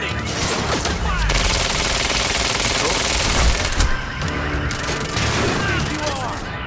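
Sustained gunfire in the video game Quantum Break, dense bursts and booming impacts layered in a loud, chaotic firefight, with shouting voices mixed in throughout.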